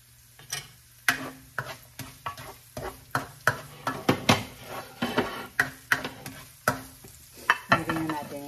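Onions fry in a pan while a utensil stirs them, producing about a dozen rhythmic scraping knocks roughly every half second over a soft sizzle, close and clear with no talking.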